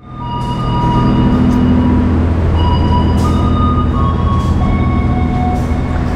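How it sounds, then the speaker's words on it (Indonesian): The Serayu economy-class train stands at track 4 of a station platform, giving off a steady, loud mechanical hum and drone with faint tonal whines and occasional soft clanks, with no voices. "rangkaian kereta api Serayu ya, dipersiapkan di jalur 4"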